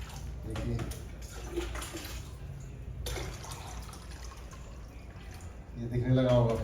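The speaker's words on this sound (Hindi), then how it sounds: "एक बार फिर पानी डालता हूँ मैं" Water pours steadily into a container during a refraction demonstration. The continuous splashing flow is close and moderately loud, a brief pause breaks it, and someone speaks over it toward the end.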